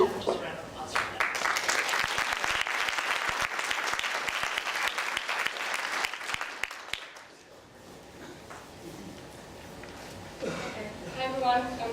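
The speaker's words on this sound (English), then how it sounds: "Just a round of applause for that." An audience at a university green awards ceremony applauds with a dense burst of clapping that lasts about seven seconds and then fades, followed by a speaker talking at the podium.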